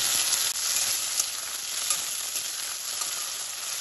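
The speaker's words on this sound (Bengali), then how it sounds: "টমেটোটাও তেলের সাথে একটু নাড়াচাড়া করে নেব।" Chopped tomato frying in hot oil in a pan for Bengali lau dal, a constant close sizzle with faint stirring underneath, steady throughout and with no voices.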